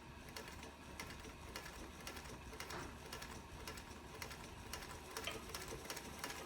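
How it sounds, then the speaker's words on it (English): A 1947 Singer 221 Featherweight sewing machine, freshly overhauled with an adjusted foot controller, runs slowly and steadily, its motor whirring close up with a soft, regular mechanical ticking throughout. "you can get some really nice slow motor control. Look how slow I can get it to go."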